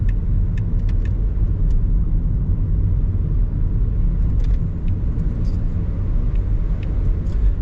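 A car drives through the streets of Taipa, Macau, after Super Typhoon Saola, its engine and road rumble a steady low drone from inside the cabin, with occasional faint ticks and clicks.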